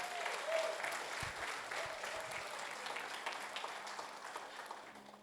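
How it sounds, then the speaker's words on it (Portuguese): A church congregation applauds together, a broad steady wash of clapping that fills the room from start to finish and slowly fades slightly, with no talk over it. "Você pode aplaudir Jesus por isso?"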